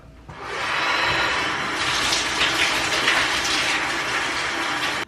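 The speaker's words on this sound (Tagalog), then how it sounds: "So, guys, dito natin i-rinse yung ulo natin. Magtuwad ako dito para lang ma-rinse yung buhok ko." Steady rushing stream of water pours continuously in a jacuzzi while hair is rinsed, loud and close, swelling slightly in the middle before cutting off abruptly.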